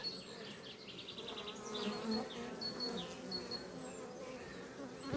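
Honey bees buzz around a hive in a dense, steady hum that stays close and continuous throughout, with no talking.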